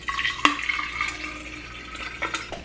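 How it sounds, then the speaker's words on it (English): Water runs into a reusable water bottle from a tap, making a soft, trickling splash with a few brighter drips and clinks, close by and fairly quiet. "I'm also bringing this water bottle just filled with water."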